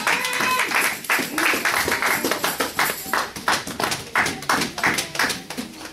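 Church congregation applauding during a Sunday service, many hands clapping in a loud, close, rhythmic burst that goes on throughout.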